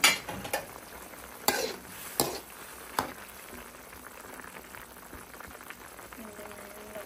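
Ginataang monggo cooking in a pot, with a few sharp clanks of a utensil against the pot at the start, then a faint steady simmer and stirring underneath, low and close.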